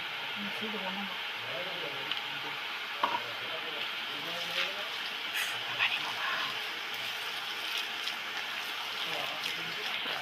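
Banana flower chop filling being mixed by hand with fried garlic, onion and chilli, giving soft, moist squelching and stirring sounds under a steady background hiss, with faint talk.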